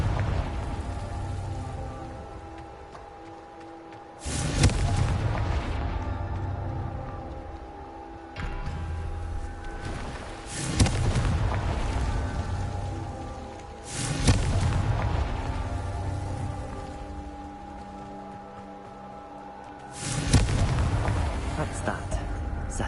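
Confringo blasting spells in Hogwarts Legacy, four booming explosions spaced a few seconds apart, each a sudden loud burst that rumbles and fades under a steady game ambience.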